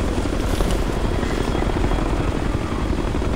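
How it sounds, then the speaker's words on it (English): Helicopter in the Ghost Recon video game, a loud, close, continuous rotor roar with rapid blade chop that stays steady throughout, with no talk over it. "And now we got a helicopter too."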